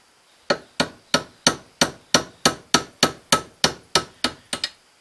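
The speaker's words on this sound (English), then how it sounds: "Use your strut coupler as a hammer." Metal strikes ring out as a strut coupler is swung like a hammer on a part of a 1967 Gravely 430 tractor, about thirteen sharp, evenly spaced blows, loud and close with no talk.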